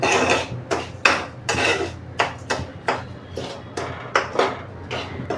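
Barnyard millet dry-roasted in a pan over medium-high heat, a spoon scraping and knocking against the metal in a steady rhythm of a dozen or so strokes, close and clear with no talking.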